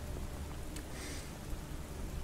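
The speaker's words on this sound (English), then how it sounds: "the sound of the rain on the waves bashing up against the ship" Rain pours down over waves slamming against a ship's hull, a steady dense wash of noise with a brief brighter splash in the middle, heard alone without voices.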